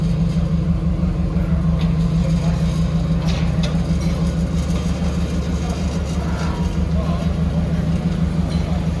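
A Camaro SS fitted with a new SLP exhaust rumbles low and steady as it pulls out, its deep engine drone constant and close, with faint talk underneath.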